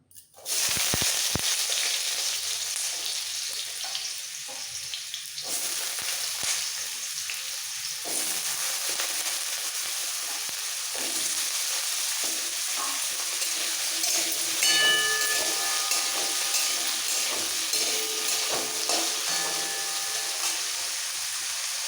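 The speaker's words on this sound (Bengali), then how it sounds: "তেল ভালোভাবে গরম হয়ে গেছে কেটে রাখা আলুগুলো এই সময় দিয়ে দিচ্ছি ভাজার জন্য" Cut potatoes hit hot oil for a vegetarian papaya curry and set off a loud, steady sizzle. It begins abruptly and carries on evenly, with faint stirring clinks and no talk.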